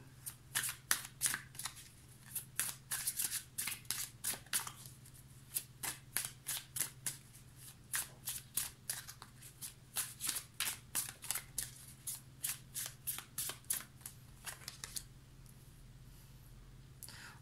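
Tarot cards are riffled and shuffled by hand in quick, crisp bursts of rapid flicking, repeating steadily and close up in an otherwise quiet room with no talking.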